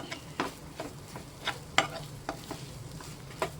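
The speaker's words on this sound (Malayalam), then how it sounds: "തേങ്ങയുടെ ആ വെള്ളമയം ചെറുതായിട്ടൊന്ന് മാറുന്നത് വരേക്കും ഒന്ന് കിണ്ടി യോജിപ്പിച്ച് എടുക്കണം" A squid and grated coconut thoran is stirred in a pan, with a soft steady sizzle and a series of sharp spatula scrapes and knocks arriving every half second or so, with no talking.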